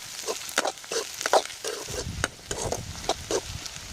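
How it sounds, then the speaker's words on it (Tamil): Onion, curry leaves and garlic sautéing in hot oil with mustard seeds in a pan for dried-fish curry, with a soft frying sizzle and repeated stirring scrapes close by, no talk. "வெங்காயம் போட்டுக்கலாம். கருவேப்பிலை போட்டுக்கலாம். பூண்டு போட்டு நல்லா வதக்கிடலாம்."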